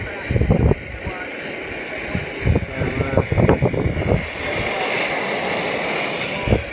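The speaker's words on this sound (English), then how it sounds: "Wind's been on all night again" Wind blows at a wild camp near Higger Tor, a steady rushing roar with gusts buffeting the microphone, while someone talks over it.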